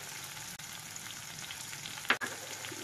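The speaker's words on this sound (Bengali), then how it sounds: "পেঁয়াজ আর টমেটোটা বেশ ভাজা ভাজা হয়ে গেছে, এবার দিয়ে দেবো আদা বাটা রসুন বাটা।" Onion and tomato frying in a pan for a fish jhuri recipe with ginger and garlic paste added, giving a steady close sizzle throughout with a brief louder stir or splash near the end.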